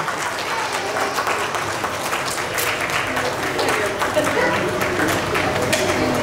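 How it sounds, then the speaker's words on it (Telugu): Audience applause at a company's first anniversary celebration in Nellore, a dense continuous clapping from a crowd filling the room, fairly loud and steady, with voices mixed in. "Claps please, clap."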